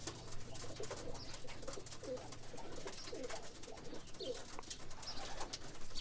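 Roller pigeons in a loft coo softly in low, repeated throaty rolls, several birds close together, over a steady background hum and rustling.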